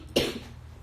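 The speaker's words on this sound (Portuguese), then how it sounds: "mesmo com essa crise de tosse" A single sharp cough bursts out close by and fades quickly against a quiet room background.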